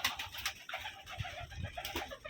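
Rajshahi Giribaz pigeons kept in a small enclosed coop, cooing and rustling in a busy overlapping murmur, with scattered flutters and a few low thumps close by.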